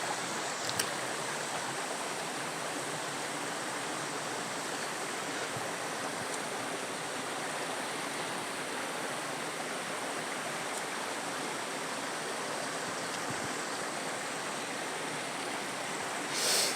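A river rushing over stones in the upper Aude valley, a loud, steady broadband roar of flowing water that holds evenly throughout with no voices.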